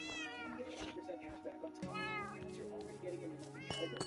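Several cats meow repeatedly in a room, overlapping high wails and calls up close, with some faint talking mixed in.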